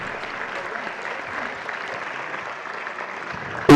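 Steady audience clapping at a festschrift ceremony as a guest is called to the stage, moderate and even throughout, then a sudden loud burst at the very end.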